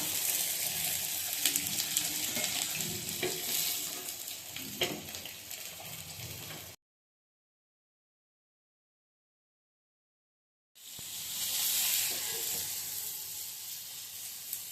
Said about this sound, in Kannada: ಇದು ತವ ಬಿಸಿಯಾಗಿದೆ, ಇದ್ರ ಮೇಲೆ ಸ್ವಲ್ಪ ಫ್ರೈ ಮಾಡ್ಕೊಂಡ್ರೆ ಎಣ್ಣೆ ಆಯಿಲ್ ಎಲ್ಲ ಕಡಿಮೆ ಆಗುತ್ತೆ